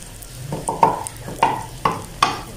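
An omelet pizza cooking in a pan over low heat, with a soft frying sizzle and repeated scraping stir strokes about every half second, close and moderately loud with no talking.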